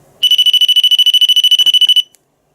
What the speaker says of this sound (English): these are originally door handle alarms.